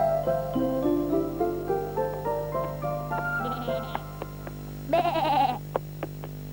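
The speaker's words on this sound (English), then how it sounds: "Bleated the sheep." A sheep in a children's story bleats once, a short wavering call over light background music and scattered plucked notes.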